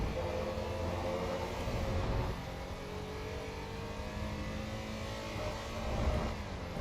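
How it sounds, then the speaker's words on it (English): A Porsche race car in the Assetto Corsa EVO racing game drones with a steady mechanical engine note and turbocharger hum, holding a fairly constant, loud level throughout with no talk. "nice mechanical feel from the engine, and you can listen also to turbocharger"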